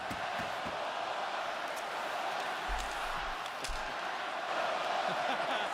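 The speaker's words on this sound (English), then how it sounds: "And listen to this crowd at the Saddledome." Steady roar of a hockey crowd at the Saddledome during an Oilers versus Flames game, a broad wash of many voices and chants heard at a distance, with a few dull thuds underneath.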